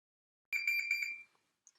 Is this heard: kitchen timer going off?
yes